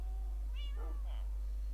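Minecraft cats give two short, high meows in quick succession, fairly faint over a steady low hum, with no talking.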